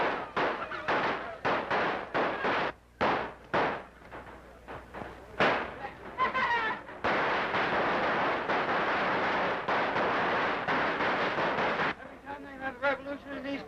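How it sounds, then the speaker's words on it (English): Rapid bursts of loud gunfire and heavy booms, first in separate sharp shots, then merging into a sustained roar of firing. "Gunfire! Cannons! It's revolution!"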